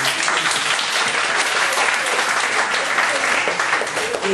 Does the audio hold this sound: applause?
yes